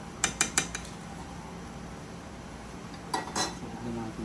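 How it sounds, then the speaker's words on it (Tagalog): A utensil clinks and scrapes against a metal pot while food is stirred in a shop kitchen, with quick metallic taps in two short clusters over a low background hum. "Haluin lang natin ng konti."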